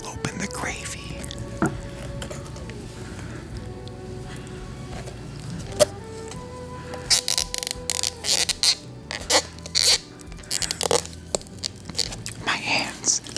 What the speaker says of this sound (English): I'm gonna open the gravy.